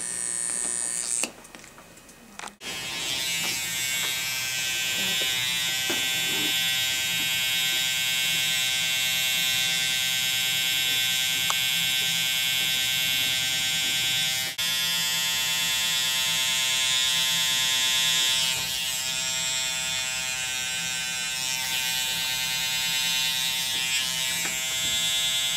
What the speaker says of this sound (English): we're going to do kind of like a raking motion, as opposed to cutting with the blade flat on the scalp